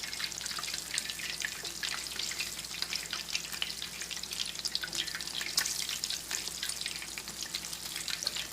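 Food sizzles and crackles steadily in a hot pan, a dense bright frying hiss with small pops and occasional stirring, no voices.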